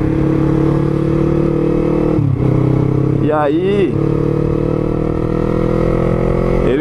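A Yamaha MT-03 motorcycle engine hums close by with a steady, throbbing drone, then briefly revs up and settles back, while someone talks over it.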